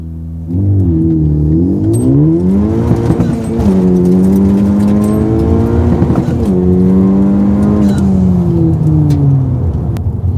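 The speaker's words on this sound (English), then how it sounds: "So I'm gonna do a 2000 RPM launch." A Honda Civic Type R in plus R mode, with traction control and air conditioning off, launches from 2000 RPM. The engine roars loudly through rising gear pulls with shifts in between, heard from inside the cabin without talk.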